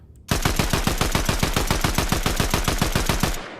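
A Warforged assault rifle in Fortnite fires a long, unbroken automatic burst of about three seconds, with evenly spaced loud shots in a rapid, steady rhythm and no voices.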